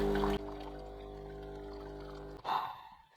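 Water from a Bosch Tassimo My Way 2 coffee machine being flushed through during descaling, a steady pouring flow under a strong machine hum that cuts out, then a brief gurgle near the end.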